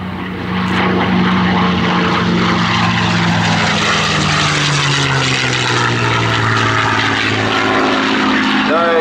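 A P-51D Mustang warbird with commemorative paint flies over a World War II weekend airshow, its propeller engine droning loud and close, then pitching down as it passes, with a public-address voice and crowd sound beneath.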